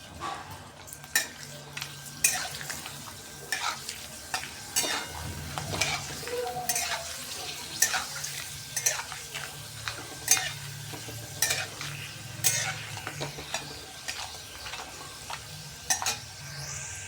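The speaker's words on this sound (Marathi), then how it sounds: "आता आपण चिप्स तळून बघूया" Potato chips frying in hot oil, a continuous low sizzle and bubbling with repeated clanks and scrapes of a spoon stirring the pan throughout, fairly quiet and close.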